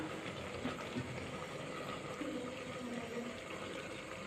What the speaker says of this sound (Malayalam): ഇനി നമുക്ക് തേങ്ങയുടെ രണ്ടാം പാൽ ചേർത്ത് കൊടുക്കണം